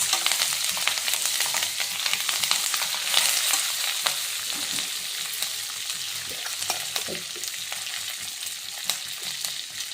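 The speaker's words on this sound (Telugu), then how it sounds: "కరివేపాకు కూడా బాగా వేగాలి." Curry leaves frying in hot oil crackle and sizzle continuously, with frequent small pops and the scrape of stirring close up, alone without speech.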